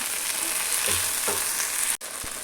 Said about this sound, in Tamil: இப்போ நம்மளுக்கு மீன் நல்லா பொறிஞ்சு வந்துருச்சு